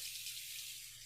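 Water runs steadily from a tap while a Gillette Mach 3 razor is rinsed between shaving passes with Barbasol, a soft continuous hiss alone at close range.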